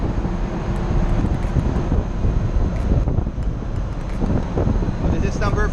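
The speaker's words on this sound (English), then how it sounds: "will be in the platform of the engine room fans." Engine room ventilation fans aboard a VLCC crude oil tanker produce a loud, steady, broadband roar that stays continuous and close throughout.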